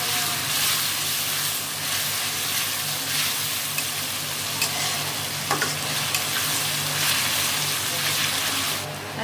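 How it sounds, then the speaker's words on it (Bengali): Chicken masala with garlic paste stir-fries in a pan, a steady close sizzle with scraping stirs running throughout, no talking. "1 চামচ দেবো রসুন বাটা, দিয়ে এটাকে ভালো করে নেড়ে দেবো"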